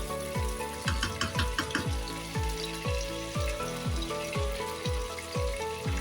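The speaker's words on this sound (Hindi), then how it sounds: "चिकन गोल्डन फ्राई हो गया है" Chicken pieces frying golden in a karahi, with a continuous bright sizzle and bubbling oil under a regular rhythm of low, repeated thuds, steady and fairly close, with no voices.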